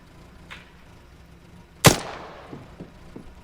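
A single loud rifle shot in the video game Arma 3 cracks out sharply and rolls into a decaying echo, with a faint distant report before it and a few soft thuds after.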